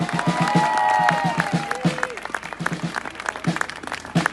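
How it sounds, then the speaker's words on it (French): At a patriots' political rally, a crowd gives a round of applause, sustained clapping with some cheering and whistles layered over it, fairly close, with voices mixed in. "on peut faire un tonnerre d'applaudissements"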